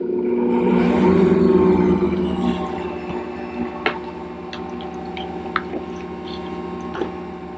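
Batter for English muffins made with freshly milled flour is stirred in a bowl, giving a steady wet squishing and churning with a constant whirring undertone and a few sharp clicks near the end.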